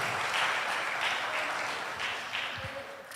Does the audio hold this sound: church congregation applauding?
yes